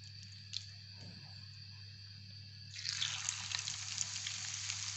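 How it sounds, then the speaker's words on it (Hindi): Vegetable pakoras drop into hot oil and a sizzle swells partway through, then holds as a steady, bubbling hiss, close but fairly quiet, with a low hum underneath and no talking. "अब हम पकौड़े डालते हैं।"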